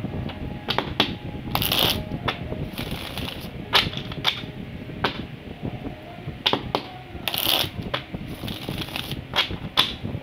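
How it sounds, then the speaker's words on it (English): Tarot cards being shuffled by hand, close up: crisp riffling bursts and sharp card snaps come in irregular clusters, with short pauses between them. "One last shuffle"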